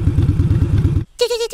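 Motorcycles on the way to a military base rumble past in a loud, pulsing engine drone that cuts off abruptly, followed by a higher engine whine revving briefly.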